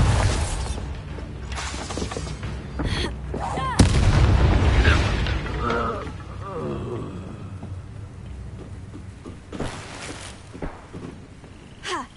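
A Bombarda blasting spell explodes in Hogwarts Legacy, a loud booming blast with crackling debris that rumbles on and slowly fades, followed by scattered smaller impacts.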